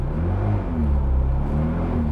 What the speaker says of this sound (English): Let's see how cold starts.